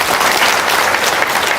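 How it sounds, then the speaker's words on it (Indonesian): Audience applause in a hall, loud dense clapping from many hands, steady and continuous throughout with no voices over it. "Tepuk tangan dong, luar biasa."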